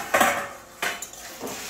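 A metal lid comes off a cooking pot over a medium flame in three quick metallic clinks and scrapes, close and clear with short pauses between them.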